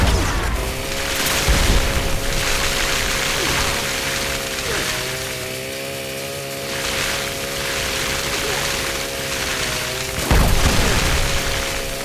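Grenade launcher explosions in Fallout 76, deep booms at the start and again near the end over a loud droning game soundscape, with a steady tonal hum throughout.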